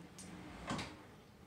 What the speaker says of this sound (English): And the litter comes out for easy changing.